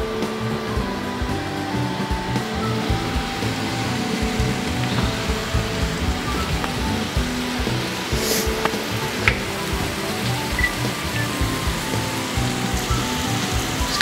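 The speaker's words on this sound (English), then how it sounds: "If you come closer, you can even hear it sizzle." Garlic and freshly chopped vegetables sizzle in a stir fry pan for a General Tso's dish, giving a steady, dense crackling hiss that stays loud and even throughout, with no talking.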